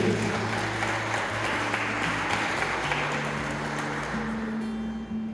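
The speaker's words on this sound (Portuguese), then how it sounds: "Então aplauda o Senhor bem forte aqui." Church congregation applauding the Lord at a Brazilian evangelical service, a loud, continuous wash of clapping under sustained music, steady throughout with no pauses.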